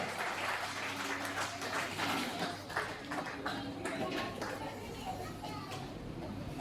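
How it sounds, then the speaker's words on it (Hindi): Scattered audience clapping at a gathering, soft and uneven, mixed with children's voices and background chatter that run throughout. "आप सभी लोग इनके लिए तालियां बजाएंगे"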